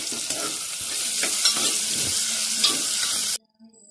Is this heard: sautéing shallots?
yes